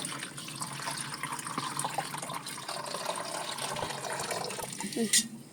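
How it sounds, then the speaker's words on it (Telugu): Water poured into a container on a rooftop terrace on a hot summer day, a steady close splashing and trickling stream that runs throughout, with a brief louder gush near the end. "ఇప్పుడు ఇంకా నీళ్ళు పోయాలి. పోస్తున్నాను"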